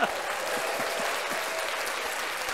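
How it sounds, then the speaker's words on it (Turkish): A short burst of crowd clapping, fairly quiet and even, fills a brief moment on a Turkish comedy tech show, with faint low voice fragments underneath. "Gökhan abi burada bir alkış alabiliriz ya Elon abiye."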